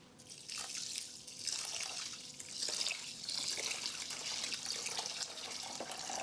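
Water poured over salted rice in a cooking pot, enough to cover it, for summer dolma. It sounds as a faint, uneven trickle and splash with small dripping bursts throughout.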